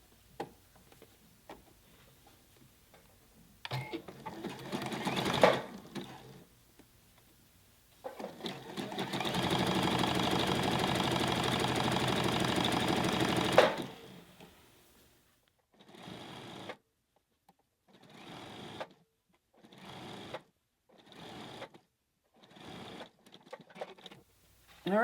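A home sewing machine stitches a T-shirt sleeve for a Jalie Nico raglan tee, running in one long steady whirring burst, then breaking into several short quick bursts with brief pauses between them, close and clear with no talking.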